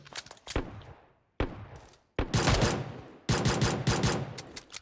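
Pistol gunfire in the mobile game PUBG Mobile, several sharp close shots in quick bursts, some spaced apart and others in rapid strings.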